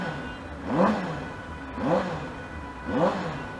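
Benelli TNT 600 GT motorcycle engine warming up, revved three times in an even rhythm, each rise and fall of pitch clear and close over a steady idle.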